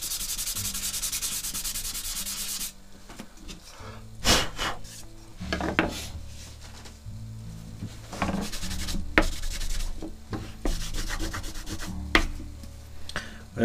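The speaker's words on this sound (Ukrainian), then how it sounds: "треба 400-ю шліфувальною шкуркою" Repeated rubbing strokes of 400-grit sandpaper on wood, removing soot from burning, scratchy and close, in irregular bursts after a brief stretch of background hiss.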